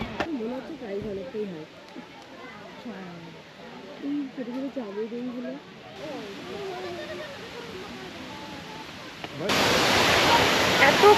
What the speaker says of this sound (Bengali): এতটা ক্লিয়ার শোনা যাচ্ছে জলের আওয়াজটা